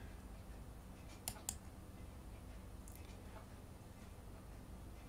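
Faint computer mouse clicks while writing a hex file to a microcontroller with a PICkit programmer: a quick double click, then a single click a moment later, small and crisp against a quiet room hiss.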